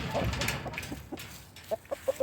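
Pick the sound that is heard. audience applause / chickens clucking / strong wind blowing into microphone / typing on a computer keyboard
chickens clucking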